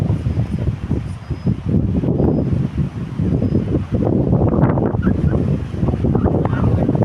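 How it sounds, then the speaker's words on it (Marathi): Rough sea waves crash and surge against nearby coastal rocks in a very strong wind, loud continuous roaring with gusting wind buffeting the microphone. "अलीकडच्या खडकात नाचतायत लाटा"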